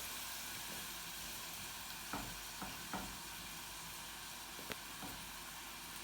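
Aubergine browns in a pan over high heat with a steady, dense sizzle, while a few soft clicks and taps from tongs or stirring sound now and then.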